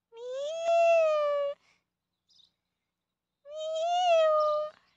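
A backyard cat meows twice, each a clear drawn-out call about a second long with a pause between, close and loud against an otherwise quiet background.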